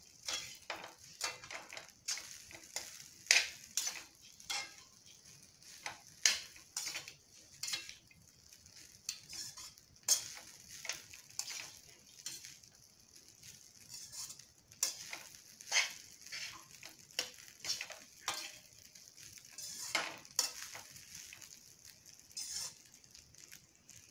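Spoon stirring sweet corn and carrot rice with cashews in a pan, a steady run of light scraping and clinking strokes, close and moderately quiet, with no talking.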